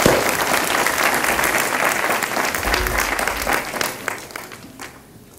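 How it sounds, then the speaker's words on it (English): An audience at a discussion event with IOC President Jacques Rogge breaks into sustained applause, a dense roomful of clapping that holds steady and then tapers off toward the end. "I'd like to give them a round of applause."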